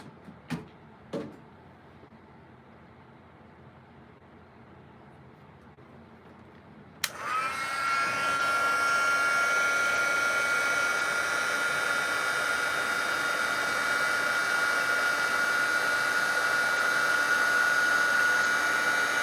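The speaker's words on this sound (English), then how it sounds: "let's grab our heat tool" A craft heat tool blowing hot air: after a couple of sharp handling knocks and a quiet pause, it switches on abruptly and holds a steady, loud whooshing drone with a faint whine until the end.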